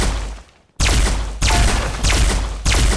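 Gunshots from a Poison Pistol or PGM in Roblox's Call Of Mini Zombies 2, four sharp, loud cracks spaced about half a second to a second apart, each followed by a short decaying tail, after a brief near-silent gap.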